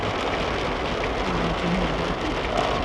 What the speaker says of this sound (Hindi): और प्रॉपर बारिश लग गई है